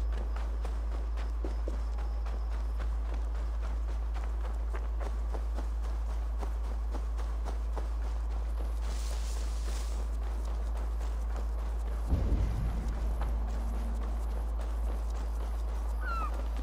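Horse hooves clopping at a walk in Assassin's Creed Valhalla, a steady soft rhythm of footfalls running throughout over game ambience, with a brief thump and rustle near the end.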